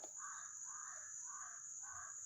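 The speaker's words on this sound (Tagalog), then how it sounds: "sobrang daming uwak" Several crows caw repeatedly in a loose rhythm, distant and faint beneath a steady high electronic whine and background hum.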